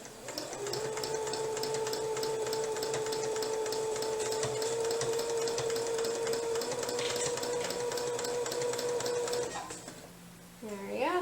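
A small domestic sewing machine runs quilting stitches in one steady rapid buzzing run of about nine seconds, then stops with a brief whir and handling noise.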